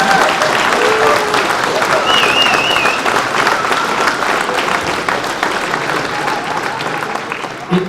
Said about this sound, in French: tous les membres de mon comité. On est 25, on peut les applaudir